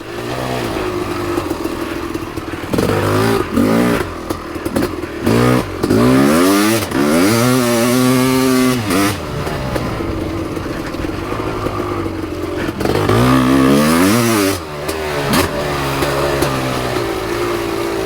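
A 1991 Kawasaki KX500 dirt bike under riding load, its two-stroke engine close and loud, repeatedly winding up through sweeping rev climbs and falling back between gear changes and throttle chops.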